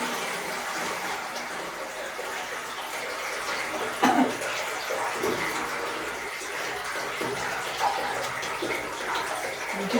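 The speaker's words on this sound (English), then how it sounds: "I'm going to put approximately 25 litres of water in there." About 25 litres of water is poured into a lavender distillation still, giving a steady, continuous rushing splash close by with a brief louder gush partway through, and no talk.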